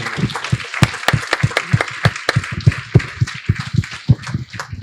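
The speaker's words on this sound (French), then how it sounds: "un dernier applaudissement pour" Scattered hand claps from a small audience at the close of a conference, uneven and close, with no steady roar of a big crowd.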